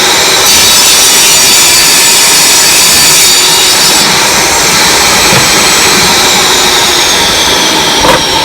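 A saw blade cuts through a wooden board for a 10-inch box build, producing one loud, continuous whining cut that stays close and steady for several seconds, with no talking.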